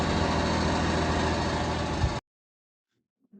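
A John Deere 755 compact tractor runs with a steady, close diesel engine drone for about two seconds, then cuts off abruptly into near silence with a faint sound at the end.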